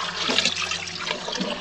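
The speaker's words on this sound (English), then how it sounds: "I swear that sounds like a lot of water coming out" A bucket emptying in Operation Kursk: a steady, close gush of water pouring out with a rushing, splashy wash that lasts the whole short moment without letup.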